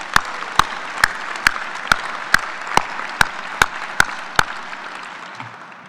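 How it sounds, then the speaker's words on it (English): Applause at a military change of command ceremony, steady crowd clapping with a loud, regular single clap standing out about every half second, holding even throughout. "So let's give them one more round of applause,"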